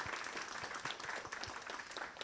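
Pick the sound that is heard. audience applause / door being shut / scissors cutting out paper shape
audience applause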